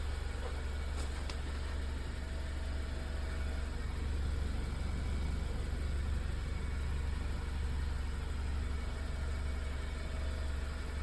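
An 11th-gen Honda Civic with the 1.5 turbo engine idles after an oil change, a constant low rumble with a steady hum, even and unbroken from start to finish.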